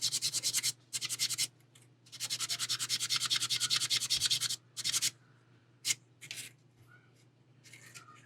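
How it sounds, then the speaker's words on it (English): Small bubble being sanded out of a 1/4 scale Deadpool figure model: a run of close, quick rasping sanding strokes in bursts, stopping and starting, then a few lighter scrapes and taps over a low background hum. "Maybe shallow enough I can just sand it out."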